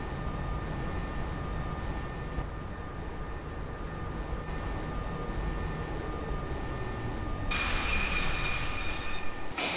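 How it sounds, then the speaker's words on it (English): A simulated train in OMSI 2 rumbles steadily along the rails with a constant low drone and high whining hum, and a sharp metallic tone cuts in near the end. "This train is so slow, I swear."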